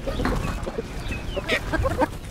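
A native hen clucks close by in a series of short, choppy notes that grow busier toward the end, over a low ambient rumble.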